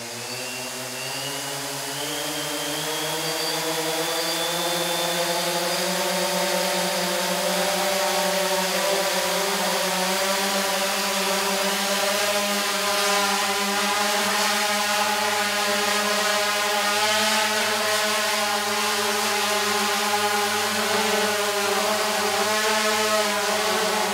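Indoors, the motors of a DJI Phantom 2 drone spin up into a steady, rising whine with a buzzing harmonic hum, getting louder over the first few seconds and then holding close and strong.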